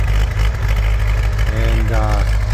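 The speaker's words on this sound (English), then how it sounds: "It's a diesel engine." A restored 1974 Bombardier Muskeg tractor's diesel engine idles steadily and close by, a deep continuous rumble, with a voice briefly talking over it near the end.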